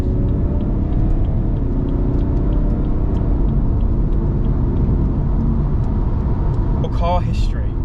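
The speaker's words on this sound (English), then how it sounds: "Yeah, it's a 6-cylinder, so it sounds better than your average. It growls, doesn't it?" A 2016 BMW 330d M Sport with a six-cylinder diesel engine gives a steady low growling drone from inside the cabin, constant and loud throughout, with a brief higher sound near the end.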